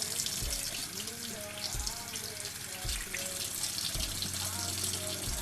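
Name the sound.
water from a tap rinsing a beauty blender sponge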